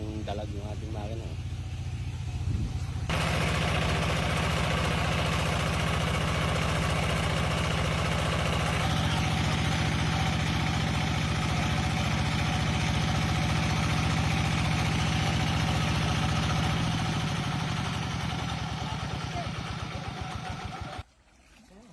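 An engine-driven pump draining a pond to catch mudfish and catfish, running in a continuous loud drone up close. The pitch shifts partway through before the engine cuts off at the end, and people talk intermittently over it.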